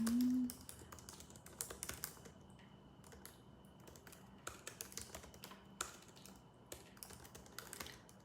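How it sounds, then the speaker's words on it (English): Keys clatter steadily on a computer keyboard in an irregular run of soft, close taps and short bursts, with brief pauses between words. No one speaks. "let me just type this in really quick"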